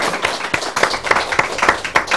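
A small audience claps in uneven bursts for a guest doctor at the close of a Korean talk show taping, individual hand claps distinct and close rather than a dense roar.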